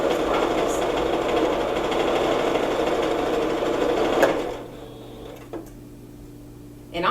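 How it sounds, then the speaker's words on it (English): A Singer sewing machine stitches in a steady, continuous motor whir that runs loud and close for about four seconds, then drops away to a quieter hum with a couple of small clicks. "Singer's an American-made sewing machine"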